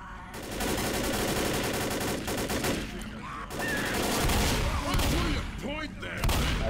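Bursts of rapid gunfire in the zombie shooter game Left 4 Dead, loud continuous volleys with short breaks, mixed with game effects and occasional voices.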